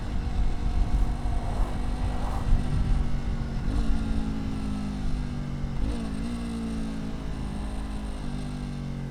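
Steady engine drone of a Yamaha MT-03 naked motorcycle on the move, with rising and falling pitch as the rider shifts through gears, wind rush underneath, continuous and fairly loud.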